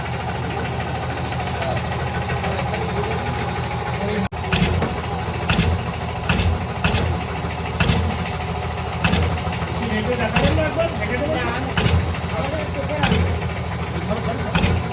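A roti-making machine runs with a steady mechanical drone and hum while dough is fed into it, punctuated by regular clunking thumps every second or so that follow a brief jolt partway through.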